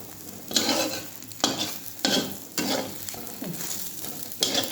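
An onion and egg omelette cooks in a pan on a gas stove, with soft sizzling under repeated scraping strokes of a spatula, about six close stirring bursts.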